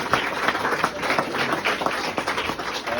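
A room full of guests clapping at a First Sergeant's military retirement ceremony, a close, busy patter of hands holding steady for a few seconds with no one speaking.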